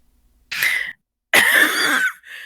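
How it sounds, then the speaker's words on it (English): A character coughs in a Minecraft SMP roleplay: a short, harsh cough, a pause, then a longer raspy coughing fit trailing into a weaker breathy hack, loud and close with silence between. "Jet reaches for Star again, doubling over midway, coughing."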